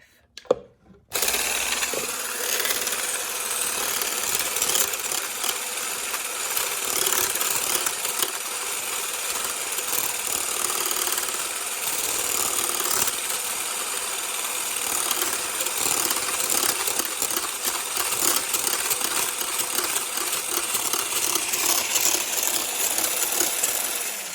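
An electric mixer whisks cheesecake mixture toward soft peaks, a steady loud whirring drone that starts after a brief clatter and runs unbroken to the end.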